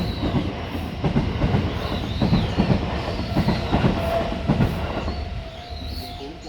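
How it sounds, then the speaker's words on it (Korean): An electric train passes close by near Kyoto Station, its wheels clacking rhythmically over rail joints in a steady rumble, with a faint squeal rising briefly as it moves on and fades slightly. "전철 지나가고 있어"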